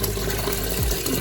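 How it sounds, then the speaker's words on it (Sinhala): Water rushes steadily into a home aquarium fish tank as it is refilled after cleaning, a continuous close gushing flow with no voices. "දැන් අලුතෙන් ආයෙ වතුර පුරවනවා"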